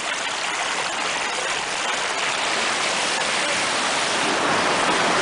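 Clear mountain stream water rushing steadily in the Jasper backcountry of Tonquin or Fryatt Valley, a loud, close, continuous broadband gush with no voices.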